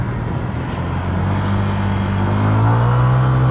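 A Honda Click 125 scooter engine strains up a steep hill on a rolling-hills road, a steady loud droning hum that rises slightly in pitch toward the end, with no voices over it.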